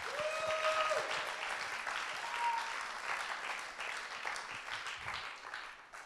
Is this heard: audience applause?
yes